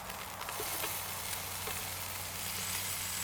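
Bacon-wrapped asparagus spears sizzle steadily on a grill alongside a ribeye steak, a dense, constant crackling hiss with faint scraping as the pieces are turned, no voices over it.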